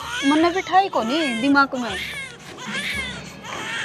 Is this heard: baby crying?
yes